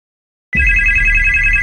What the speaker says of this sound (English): Julie scrambles to answer the ringing phone